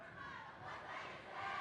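A home crowd at a girls' high school volleyball match in a gym roars and cheers, a faint, sustained wash of shouting voices that swells slightly toward the end.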